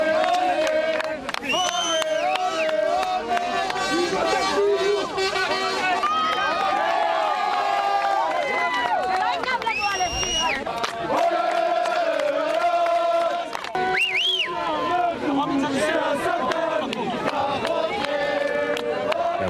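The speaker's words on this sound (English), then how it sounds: "We understand this crowd gathered just outside the courthouse to support the Israeli soldier ahead of the verdict" A large crowd rallies outside a courthouse in support of an Israeli soldier, many voices chanting and shouting in loud rhythmic unison with sustained cries throughout.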